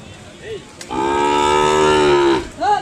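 A single long, loud moo from a nearby Ongole calf at a cattle market, with lowing tones swelling and then fading, surrounded by quieter background sounds.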